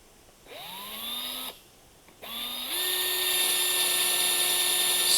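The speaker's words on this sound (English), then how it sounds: "let your drill do the work" A power drill drilling through plastic whines up in short bursts, pitch rising as it spins up, then settles into a steady sustained high whir as it bores in.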